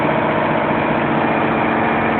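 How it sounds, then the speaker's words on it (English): Aboard the fishing vessel Pacific Producer, engine room machinery runs in a steady, loud, low droning hum with constant mechanical vibration, heard alone without voices. "So, here we go. Down into the engine room."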